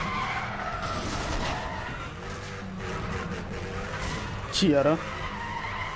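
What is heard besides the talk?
cars racing and skidding in street race, Need for Speed The Run video game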